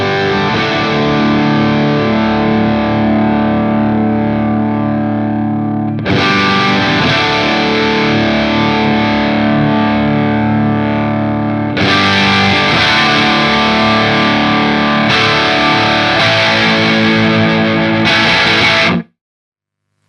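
Electric guitar through a Joyo Meteor distortion pedal with gain set around half while the tone knob is swept, loud sustained distorted chords that grow brighter in steps, then stop abruptly near the end; no voices.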